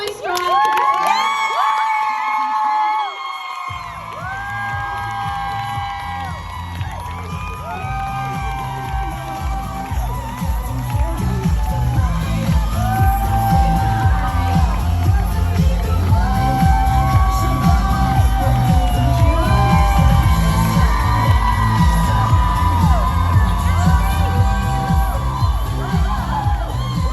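Audience at an empowerment event in Austin erupts in loud cheering, whoops and shouts over music as a speaker is welcomed to the stage, building after a brief quieter opening and staying intense.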